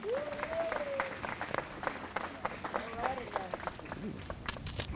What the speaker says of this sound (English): Clap moment.